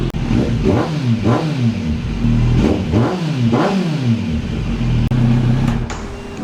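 A 2022 Kawasaki Z900 motorcycle engine revs up and down in repeated rising and falling surges, its exhaust with silencer loud and steady with a muffled, throaty tone.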